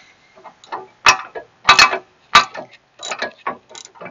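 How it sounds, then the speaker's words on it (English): Wrench work tightening nuts on a freshly mounted part: short clicking and ratcheting bursts in irregular clusters, fairly close and clear, with quiet gaps between them and no talking. "We'll tighten them up to the appropriate torque."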